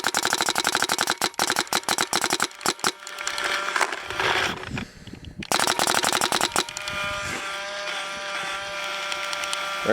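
A GOG Extcy air rifle fires on semi-automatic in quick bursts of sharp, close pops, with brief pauses between strings and a lower mechanical hum underneath.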